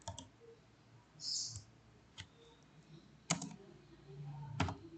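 Someone types on a computer keyboard while programming, producing quiet scattered key clicks and taps with short pauses between bursts.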